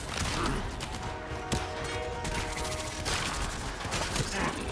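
Dense, continuous gunfire from many directions in the video game Warframe, with a sharp close shot cutting through a sustained din of weapons and mechanical clatter.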